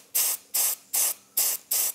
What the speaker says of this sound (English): I'm going to spray some rust flash on it.